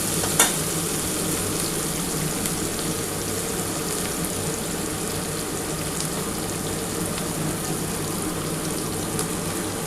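Bhola fish pieces fry steadily in hot oil with salt and turmeric, a dense, even sizzle that holds at the same level throughout, close and alone with no voices.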